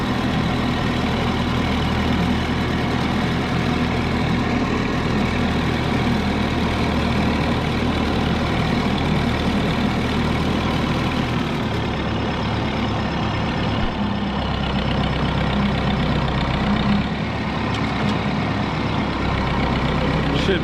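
An Oliver 66 tractor engine runs with a steady, close low-pitched drone while driving on a farm during wheat seed cleaning, its rhythmic throb shifting slightly partway through, with a voice speaking over it at times.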